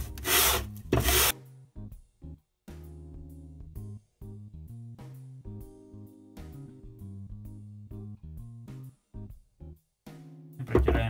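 Coarse 80-grit sandpaper rubs back and forth over wood for a handmade planter: short, close scratchy strokes in an irregular rhythm, with brief louder rasps at the start and end.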